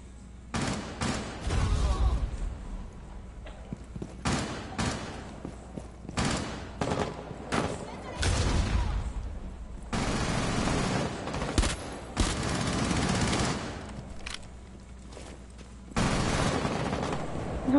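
Rapid bursts of automatic gunfire and single shots crackle loudly from a PS4 shooter game, arriving in dense irregular volleys with brief gaps between them, near and punchy throughout.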